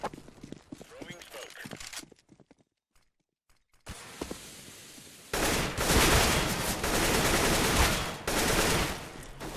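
Sustained automatic gunfire spray in Counter-Strike: Global Offensive, loud dense bursts filling the second half after quieter game sounds, footsteps and a near-silent gap.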